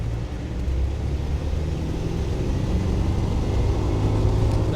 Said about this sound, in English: So we will downshift now and accelerate.